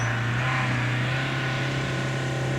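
A Land Rover Discovery drives over rough, awful off-road terrain, its engine holding a steady low drone that runs unbroken and fairly loud throughout, with no voices.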